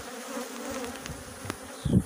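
Honeybees buzzing close by at a hive frame in a brief, low hum, with a louder burst near the end as one passes near.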